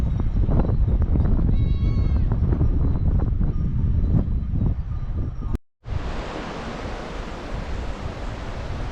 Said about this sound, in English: Up here you can see a lot of these mountain goats.